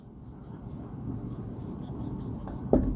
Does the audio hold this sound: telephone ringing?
no